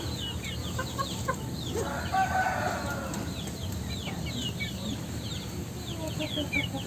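Young chick clucking outdoors among chickens, with repeated short chirps and clucks over a busy background of other fowl and birds, moderately near.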